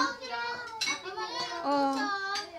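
Plates and cutlery clink and scrape at a family meal, with bright ringing knocks scattered across a few seconds as voices, including children's, chatter close by.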